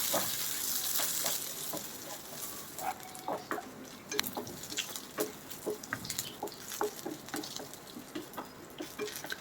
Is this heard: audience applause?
no